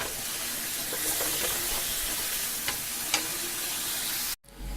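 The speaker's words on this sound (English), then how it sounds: "I'm going to saute these for about 3 to 5 minutes." Onions and mushrooms sauteing in a pan, a steady close sizzle with occasional stirring scrapes, then a brief cut of silence near the end before the frying resumes.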